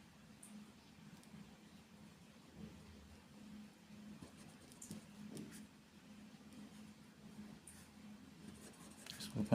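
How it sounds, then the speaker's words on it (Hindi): A pen scratches across paper in a quiet room, with soft, intermittent strokes and light taps under a faint low hum. "पहले वाले को मैं पूरा लिखता हूँ।"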